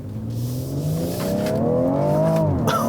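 A 2018 BMW X3 M40i's six-cylinder engine pulls hard in Sport Plus, its note rising steadily in pitch as it accelerates, heard from inside the cabin with no talking.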